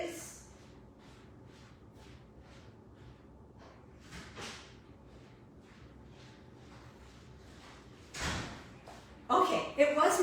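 A house door being opened and closed, heard as a few muffled thumps against quiet room noise, ending in a louder knock and slam.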